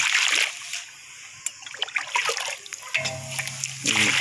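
Liquid poured quickly into a metal pot while making a kushta fulad preparation, a steady close splashing and trickling stream with sloshing throughout, no talk.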